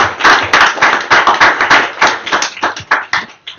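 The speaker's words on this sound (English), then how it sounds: "So I want to have a nice applause for the speakers for being here tonight." Audience applause for the speakers at an evening presentation on cycling and mobility, a close, loud burst of clapping with sharp, uneven hand claps that keep on throughout and thin out a little toward the end.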